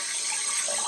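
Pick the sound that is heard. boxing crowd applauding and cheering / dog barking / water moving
water moving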